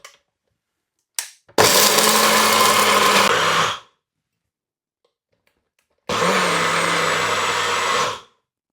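An electric mixer grinder grinds dry tea masala spices in two loud, close bursts of whirring motor and rattling, each lasting about two seconds, with a short silent pause between them.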